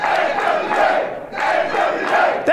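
A wrestling arena crowd roars and cheers in loud, swelling waves of massed voices, dipping briefly before surging back up.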